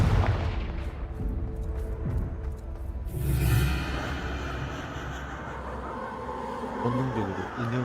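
A Confringo fire spell blasts in Hogwarts Legacy, a loud burst of explosive booms near the start followed by a second heavier blast, rumbling and crackling debris trailing off under game effects.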